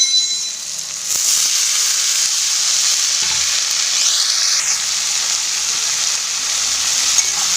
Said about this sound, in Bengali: সব কিছু একসাথে ভালোভাবে নেড়ে নেব।